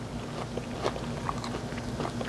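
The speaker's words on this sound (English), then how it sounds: "The sugar is on it, gives it a nice crunch and crust." Teeth bite into a sugar-coated malasada with a crunchy crust, giving a few faint, crisp crunches and chewing clicks over a steady background hiss.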